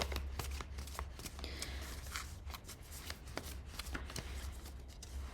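Oracle cards are shuffled in a continuous soft riffling and slapping, close by and fairly quiet, with a low hum underneath.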